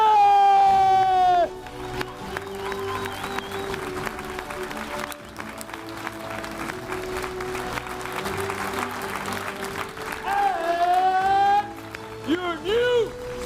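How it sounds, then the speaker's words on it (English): Audience applause for the second-place finisher at a Swiss Barista Championship during the Swiss Coffee Festival: sustained clapping runs under an amplified announcer's voice at the start and again near the end. "In second place, and with a huge round of applause,"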